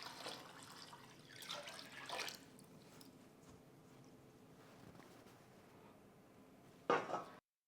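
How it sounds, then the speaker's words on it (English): Cold water poured into a pot of turkey brine off the heat, a soft steady splashing stream with a brief louder gush and clink near the end, close and quiet. "And again, we're adding a gallon of cold water."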